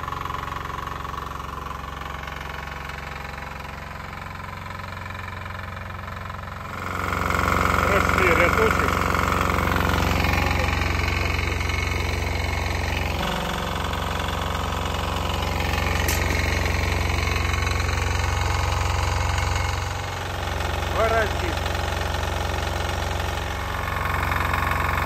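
A tractor-pulled potato digger harvesting potatoes in a field in Ukraine, its engine starting and then running with a loud, steady rumble and rattling, while someone talks over it.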